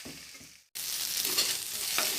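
Pieces of goat head fry in a pan while being stirred by hand, a brief quiet scrape, a short cut, then a steady close sizzle with scraping strokes.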